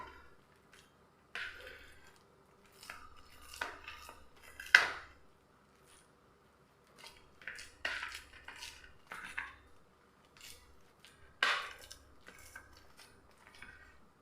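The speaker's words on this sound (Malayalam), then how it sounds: "സ്മാഷർ വെച്ച് നമ്മളൊന്ന് കട്ടകളൊക്കെ ഉടച്ച് നല്ല പേസ്റ്റാക്കി എടുത്തിട്ടുണ്ട് നമ്മുടെ പഴം" Boiled bananas mashed into a paste with a masher in a bowl, giving soft squishy presses and light metallic clatters in irregular bursts with quiet gaps between.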